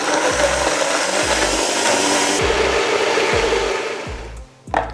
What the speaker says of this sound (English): Blending it until it's completely smooth.